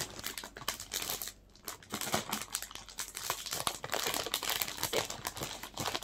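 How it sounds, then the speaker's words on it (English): A plastic vacuum storage bag holding clothing crinkles and rustles as air is squeezed out by hand, giving a close, irregular run of crackling bursts with a short pause, and no talk. "And then you have to squeeze out all the air."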